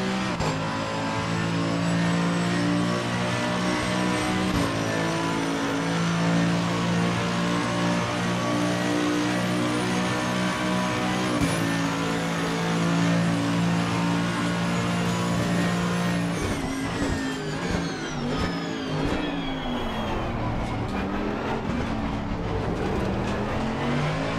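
An AMG EVO GT race car lapping Monza in a racing video game, its engine droning loudly and steadily with gear shifts and rising, falling revs over a long continuous stretch, no talking.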